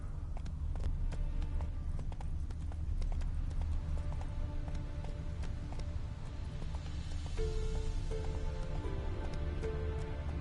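Roach, a horse in a video game, gallops with rapid, steady hoofbeats in a continuous close clip-clop rhythm, over a low background rumble, with no voices.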